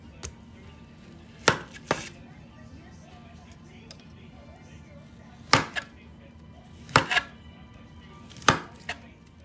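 Knife chopping partly boiled chicken into slices on a cutting board, sharp isolated chops and small double hits spaced a few seconds apart, close, over a quiet room hum.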